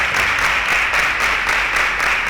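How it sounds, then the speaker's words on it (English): A studio audience claps for quiz show contestants in a steady, dense burst of many hands that stays even and close throughout the short stretch, with no talk over it. "A round of applause to them."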